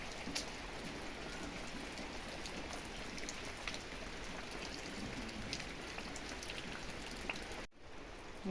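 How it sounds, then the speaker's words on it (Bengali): Heavy rain pours down steadily on a dark, cloudy morning, a dense, unbroken hiss that stays loud and close for the whole stretch before briefly dropping out near the end. "তিনটের থেকে মনে হয় বৃষ্টি হচ্ছে"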